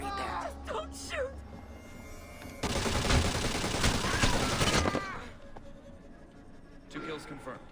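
Sustained burst of gunfire in the Splinter Cell video game, a dense, loud run of shots lasting a couple of seconds, with game dialogue and ambience before and after.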